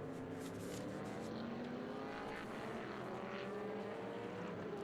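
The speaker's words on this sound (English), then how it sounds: "95 to 2012 IMSA ALMS GT LMGT production cars, and they're roaring into action" GT production race cars from 1995–2012 IMSA ALMS classes, including Porsches and Ferraris, roar past in a dense pack at a Velocity Invitational race, steady engine drone with rising and falling pitch throughout.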